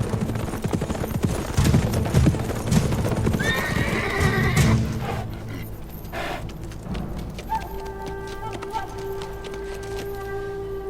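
Horses neigh and whinny with hooves clip-clopping in the first half of the scene, mixed under loud activity, then a lingering sustained tonal ring; voices are faintly present.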